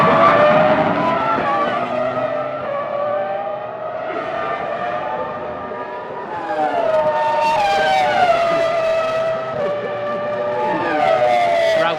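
Formula 1 race cars at the 2004 Brazilian Grand Prix scream past with high, rising and falling engine whines, one car after another, loud and close, layered over the constant roar of the track.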